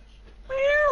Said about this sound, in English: This is a kitty.